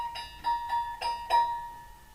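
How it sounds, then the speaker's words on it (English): A properly tensioned scroll saw blade is plucked four times, each pluck giving a clear, bright ringing tone that decays quickly, close and fairly quiet in a still room. "That is the sound of a properly tensioned scroll saw blade."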